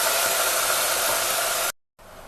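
Goat tripe (vajri) hits hot oil in a pressure cooker with a loud, close, continuous hiss that cuts off abruptly near the end before a quieter sizzle resumes.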